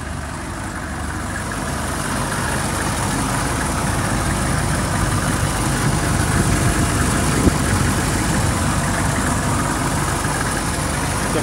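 A 2001 Chevy Workhorse aluminum step van engine idles continuously with a constant low rumble and broadband hum, fairly loud and unchanging throughout.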